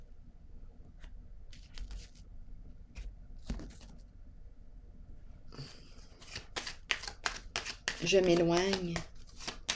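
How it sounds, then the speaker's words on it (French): Tarot cards riffle and snap in a quick run of crisp, close shuffles, then a card is drawn. A voice speaks briefly near the end. "je vais piger une carte sur la honte ici"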